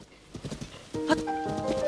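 A video game horse whinnies over quick clip-clopping hooves, short and close, with a faint voice underneath.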